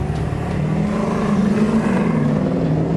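Ford 7.3 and 6.0 Powerstroke diesel pickup trucks accelerate hard side by side in a drag race, a steady loud engine roar with a low droning tone, close and continuous without a break.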